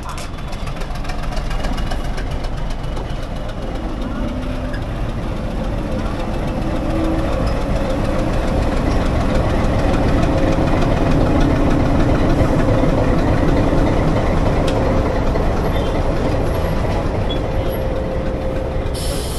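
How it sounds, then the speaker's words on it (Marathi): Diesel locomotive idling at the head of the Udhagamandalam–Coonoor passenger train, a deep steady rumble with a low knocking throb, loud and close, holding constant throughout with no break. "ही पॅसेंजर जी आहे ना, स्टीम लोकोनी नाही चालत तर डिझेल लोकोमोटिव्हने चालते"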